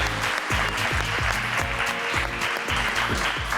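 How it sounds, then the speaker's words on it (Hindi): A studio audience on a comedy talk show applauds a cricket player. The steady, dense clapping runs under a loud, rhythmic musical beat throughout. "जोरदार तालियां हमारे क्रिकेटिंग प्लेयर के लिए।"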